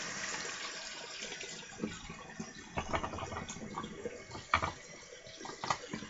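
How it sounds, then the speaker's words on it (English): Running tap water splashing over hands at a sink while washing off soap, a steady broadband wash with a few brief louder splashes and knocks, close and alone with no talking. "I want to wash that off my hands."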